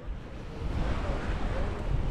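Ocean waves rolling onto a beach at Playa del Carmen under rough, heavy surf, a steady broadband wash with wind noise over the microphone, continuous and fairly loud with no talking.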